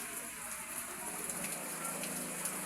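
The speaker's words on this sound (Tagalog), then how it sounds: "Lakas ulan pa." Steady hissing rain pours down, a dense, even wash of drops on surfaces, fairly faint and continuous without talking.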